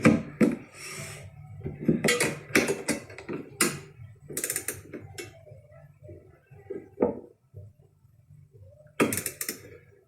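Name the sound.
tightening down a motorcycle wind deflector fitting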